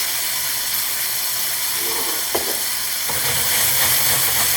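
Garlic sizzling in a hot pan, a steady close frying hiss throughout with a brief clink near the middle and the sizzle swelling slightly toward the end.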